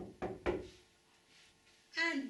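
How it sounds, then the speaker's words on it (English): Two quick knocks rap on a wooden door, close and crisp, followed by a pause and then a short spoken line. "One day there was a knock at Joseph's door."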